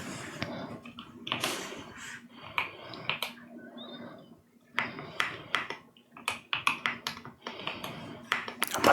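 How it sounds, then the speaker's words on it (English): Bursts of quick clicky key presses on a mechanical keyboard, close and crisp, separated by short pauses, with a brief voice in the middle. "this mechanical keyboard, which sounds really nice"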